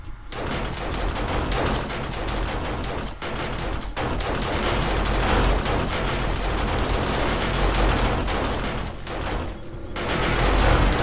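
Defensive turrets in a video game firing continuously, a dense, loud rattle of rapid shots with brief gaps, sustained for the full stretch with no talking.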